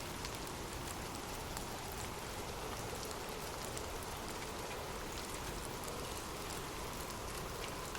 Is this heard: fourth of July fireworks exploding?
no